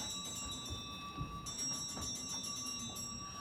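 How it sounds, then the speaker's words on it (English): A supper bell at a boarding school rings with a sustained bright metallic tone, growing slightly louder partway through, with faint background noise beneath. "The supper bell!"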